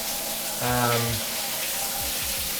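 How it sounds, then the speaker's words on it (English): Shower body jets in an apartment bathroom spray water with a steady, close hiss throughout, and a brief voice-like tone rises above it partway through. "it hits you with the body jet."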